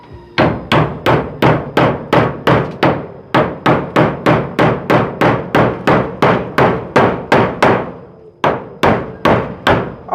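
Loud, sharp hammer strikes land in a fast regular rhythm, about two per second, with a brief pause partway through.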